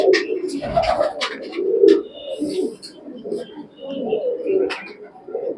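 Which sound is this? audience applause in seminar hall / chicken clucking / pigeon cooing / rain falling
pigeon cooing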